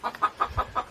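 Brooding hens of an African chicken breed clucking in nesting boxes, a quick series of about six short, close clucks in an even rhythm.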